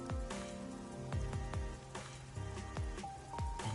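Rain falling in the neon-lit Kamasaki District of the Rain Code video game, a steady wash of drops with repeated low drip-like pops and soft musical tones layered over it, no speech.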